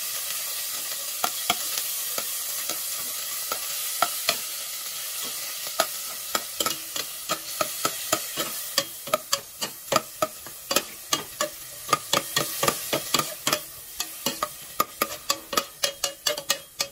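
Ground pork toasting in oil in a pot, a steady sizzle with scraping spatula strokes that grow more frequent and louder toward the end, close and alone with no talk.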